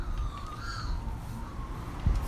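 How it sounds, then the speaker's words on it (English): Magpie calling outdoors, a drawn-out warbling, siren-like call at moderate distance over steady background noise, with a brief louder knock near the end. "we don't have magpies that sound like that in the States"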